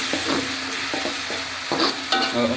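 Beef strips stir-fried in a pan with oyster sauce, a bright continuous sizzle broken by several scraping, clattering strokes of the spatula as the meat is tossed, close and without voices.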